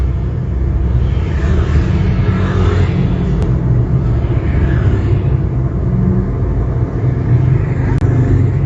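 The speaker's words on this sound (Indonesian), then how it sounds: "Oh, truk sampah." A garbage truck passes along a town street, a steady low engine rumble with road noise that holds loud and close throughout, swelling slightly as it goes by, with no talk over it.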